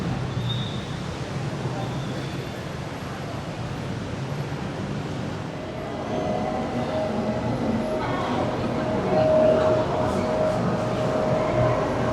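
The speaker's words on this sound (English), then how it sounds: "So it's the train to Bangkok, platform 3." A train to Bangkok rumbles past a station platform nearby with a broad, rising roar and a steady hum, growing louder toward the end.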